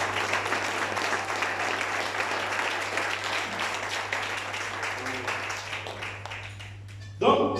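A church congregation applauds steadily, a dense, even wash of clapping and cheering voices that holds throughout, then briefly swells louder at the very end.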